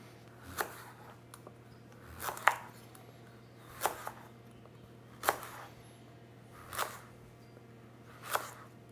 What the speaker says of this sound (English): For these fries, we're actually gonna cut them into little slices